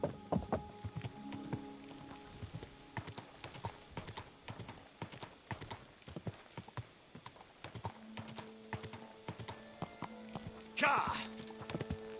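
Horse hooves clip-clop steadily across ground in Kingdom Come: Deliverance II, a rapid run of close, even strikes with occasional snorts, while someone talks now and then over the galloping.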